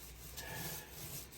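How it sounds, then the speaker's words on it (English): Paint roller spreading coating across a large kitchen countertop surface, a soft continuous rubbing swish close by, faint and uninterrupted. "so now I'm rollering the larger surfaces"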